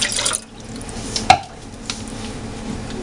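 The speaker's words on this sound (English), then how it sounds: "Le añades el agua." Water is poured into a pot while cooking Russian cream with sugar, a soft continuous splash with a brief clink partway through, close and without talk.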